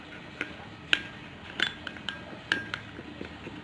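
A spoon clinks lightly against a small bowl while tomato juice and aloe vera gel are stirred together, giving soft, scattered taps at an irregular rhythm, close up and quiet.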